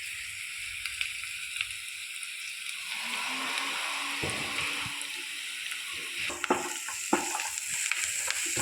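Crushed dried chili and spicy brinjal sizzle in a hot pan as a utensil stirs them, with a steady close frying hiss broken by scraping and clinking strokes.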